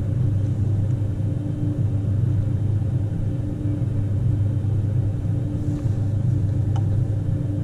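CRJ700 jet engines run at takeoff thrust in a flight simulator, giving a steady, loud low rumble that holds even and unbroken throughout.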